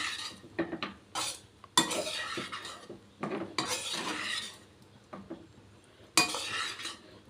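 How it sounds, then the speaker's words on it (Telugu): Chicken fried rice is stirred in a pan, with irregular bursts of scraping and clinking from a spoon against the metal, separated by short quiet gaps, over a faint sizzle. "బాగా మిక్స్ చేద్దాం."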